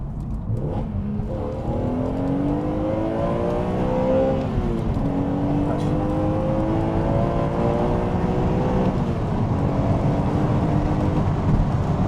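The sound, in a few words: BMW E85 Z4M Roadster engine revving with intake sound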